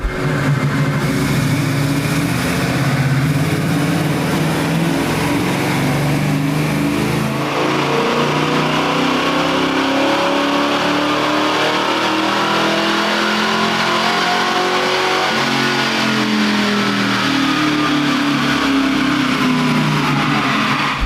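A classic 1965 Mustang with a swapped Fox Body 5.0L engine revs hard on a dyno during a second pull after a slight timing tweak, a loud continuous engine roar that climbs and falls in pitch with no talking.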